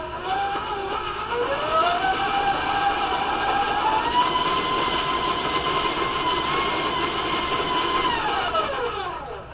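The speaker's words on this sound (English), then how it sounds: "I want to warn you about the sound ahead of time that my mixer makes" A stand mixer creaming shortening and sugar runs loudly and steadily, its motor letting out a high, squealing whine that rises at the start, holds throughout, and drops away at the end.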